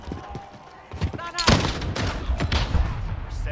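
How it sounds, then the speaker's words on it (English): A point-blank shotgun blast in a video game lands as a loud, close boom amid a dense stretch of rapid in-game gunfire and thuds, with a voice talking over the action. "That's a point blank shotgun."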